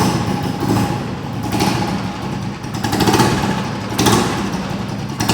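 A fully restored Royal Enfield Bullet motorcycle engine runs steadily with a loud, close, rough thumping drone and no talk over it.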